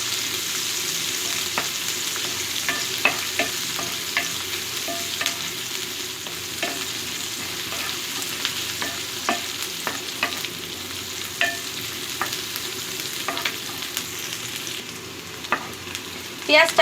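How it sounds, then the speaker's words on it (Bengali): Chopped onions sizzle steadily in a pan for a prawn-head bhuna, with irregular scrapes and clicks from a stirring spoon against the metal. No one talks. "পেঁয়াজটা দিয়ে আমি একটু নেড়ে চেড়ে নিচ্ছি।"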